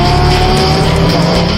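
GT race cars, stripped-interior modified street cars, roar past at Oulton Park circuit in Cheshire, England: a loud, continuous engine drone with tire squeal, steady and close throughout.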